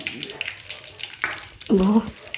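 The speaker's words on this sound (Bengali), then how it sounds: "ঝোলটা ফুটে ওঠার পরে আমি পুর ভরা পটলগুলো এর মধ্যে দিয়ে দিয়েছি" Stuffed pointed gourds go into bubbling gravy with a soft sizzle and stir, building to a louder burst of frying near the end, close by with no talk.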